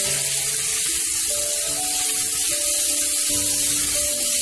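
Onion paste sautéing in a pan for thattapayir puli kulambu, giving a steady, even sizzle that carries on throughout at close range, with faint tonal background sounds and no talking.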